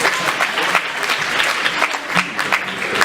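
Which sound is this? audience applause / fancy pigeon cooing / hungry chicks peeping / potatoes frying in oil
audience applause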